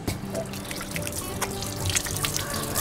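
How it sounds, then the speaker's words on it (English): A kitchen tap runs steadily while hands are rinsed under the stream in a home kitchen, a close, continuous splashing trickle with no talking. "wash my hand again."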